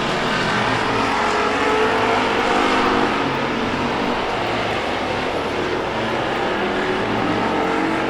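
Race cars battling for position on a racing track late in a feature race, a continuous dense engine roar from several cars at once, loud and steady for the whole stretch with no talk.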